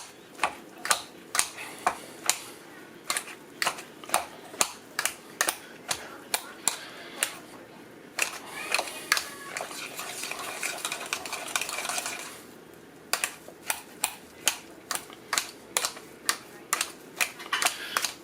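A masher clanks rhythmically against a metal pot while mashing boiled potatoes with thyme, giving sharp repeated knocks with a softer squishing stretch midway, close and clear.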